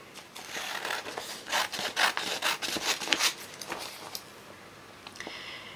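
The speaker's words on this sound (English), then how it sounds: "I literally just cut around the line of the sellotape." Scissors snipping and rasping through thin teabag paper around a line of sellotape, a run of close, dry cutting strokes that fade out near the end.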